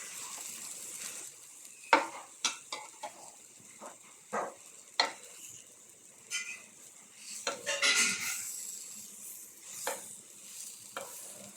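Banana slices sizzle and fry in a pan while being stirred and turned, with repeated scraping clinks of a utensil against the pan over a steady crackle, close and moderately loud, no talking.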